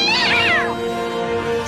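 A cartoon kitten gives a loud, close meow with a rising then falling pitch, followed by a steady animated soundtrack tone and no talking.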